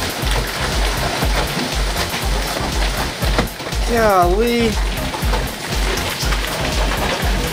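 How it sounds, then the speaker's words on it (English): Heavy hail pounds and bounces on a porch in a dense, loud, continuous clatter, while a person speaks briefly over the din. "it hailed really, really hard"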